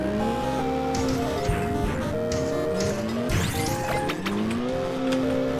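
Engine drone of a car driven out of a driveway in a video game, carrying a steady loud hum with squealing tires, crunching impacts and revving bursts throughout.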